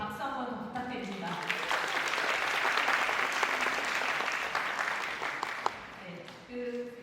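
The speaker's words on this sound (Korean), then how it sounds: "그 모든 분들께 박수 한번 더 부탁드립니다" An audience at the 2024 KeSPA global esports forum gives a long, loud round of applause that swells and then tapers off over several seconds.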